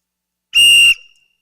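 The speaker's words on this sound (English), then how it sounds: "I'm going to blow the whistle" One short, shrill whistle blast rings out loudly at a school rally, and it stops cleanly with a brief echo and no talking around it.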